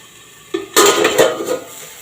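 A metal pot lid is lifted off a pot of simmering spinach dal, giving a short clank followed by light metallic clinks and rattles, close and clear with no talking.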